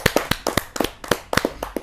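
A kavi sammelan audience gives a poet from Rewa a short burst of clapping, sharp and uneven hand claps coming in ragged clusters rather than a full roaring ovation.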